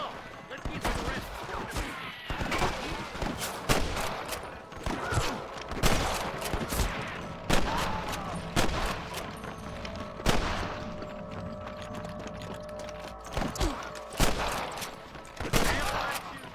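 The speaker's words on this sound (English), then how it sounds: "Damn fine shooting, boys." Rapid gunfire rings out in a Red Dead Redemption shootout alongside deputies, with repeated sharp shots and bursts coming both close and farther off over a busy din, and voices shouting in between.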